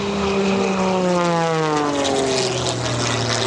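A propeller aerobatic airplane at a county airshow roars overhead, its loud engine drone sweeping down in pitch as it passes, with no talking.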